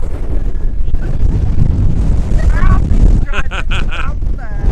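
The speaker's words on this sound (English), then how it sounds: "Wow, really, really windy." Strong wind at the seaside in Southerness, Scotland buffets the microphone in a loud, rumbling roar, with a person speaking over the gusts.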